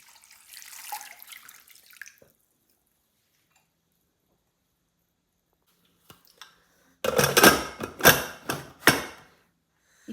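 Water pours into a pressure cooker holding chickpeas and salt for chole masala, a short loud splashing burst after a quieter trickle and a pause, with a few clattering knocks near the end.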